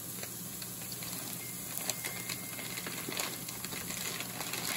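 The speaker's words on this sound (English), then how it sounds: "I like that sizzle noise that seals in the juices and the flavor when you first put the piece of meat on" A thick pork chop sizzles on a hot Philips Smoke-Less indoor grill, a steady broadband hiss and crackle with small pops, moderately loud and close, without speech.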